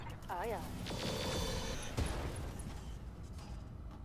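Mech weapons fire in the Roguetech video game with one heavy boom midway over a bed of whirring electronic tones, while a game voice speaks briefly near the start.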